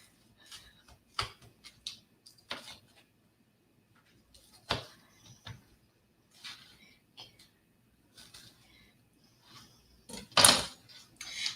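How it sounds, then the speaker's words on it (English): Knife slicing bacon into big chunks on a cutting board, a string of sharp, sparse knocks and taps at close range with quiet gaps between, the loudest near the end. "I am cutting this bacon in pretty big chunks"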